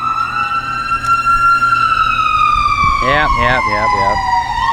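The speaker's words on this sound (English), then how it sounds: "Alright, shut up, sirens. I know you're going to an emergency." Emergency vehicle sirens wail loudly past, a steady rising and falling tone joined by a second siren's rapid yelping warble near the end, with a brief spoken word over them.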